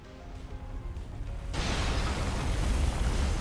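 A bomb explosion in Elden Ring: after a quieter stretch of ambient rumble and faint clatter, a sudden loud blast erupts and rolls on as a dense, sustained roar.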